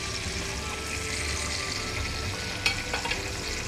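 Chicken frying in a covered pan, a steady dense sizzle that holds throughout, with a couple of faint clicks near the end and no speech.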